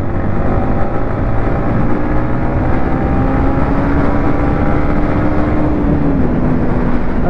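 A Yamaha MT-15 motorcycle engine drones steadily and loudly as the rider speeds up, with a rising tonal whine under heavy wind rush at the microphone.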